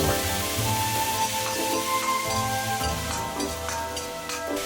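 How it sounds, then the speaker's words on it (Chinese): Fermented black beans and chili bean paste stir-fried quickly in hot oil with ginger and scallion in a wok, giving a steady close sizzle with scraping stirs and faint clinks throughout. "把豆豉和豆瓣酱倒入锅中，快速炒香"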